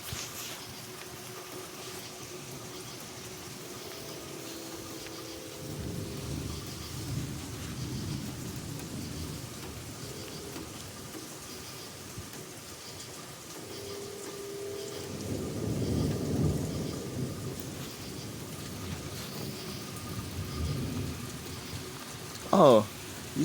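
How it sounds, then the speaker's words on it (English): A night thunderstorm in a Kentucky yard, with steady rain hissing throughout and two long, low rumbles of thunder rolling in and fading, plus a brief sharp noise near the end. "Thunder shouldn't be too far behind."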